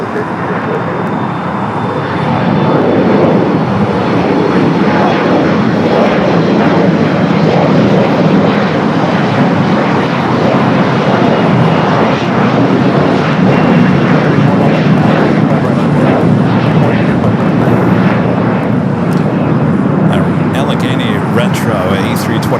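A plane taking off from runway 25 Right at LAX gives a loud, continuous engine roar that builds quickly and holds steady, with a voice speaking over it.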